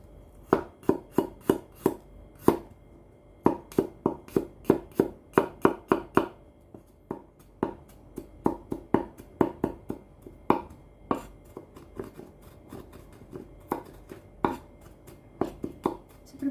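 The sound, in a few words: chopping garlic on a small cutting board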